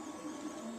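An Ortur 4 V1 3D printer with a metal extruder, rails and a PET-type print surface prints a support-free sci-fi forest model, its stepper motors giving a steady, faint whirring hum with slight pitch shifts.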